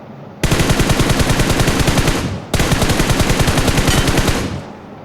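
Automatic gunfire in the mobile battle-royale game PUBG Mobile: two long, rapid bursts of loud, evenly spaced shots, each lasting about two seconds with a brief gap between, up close and alone.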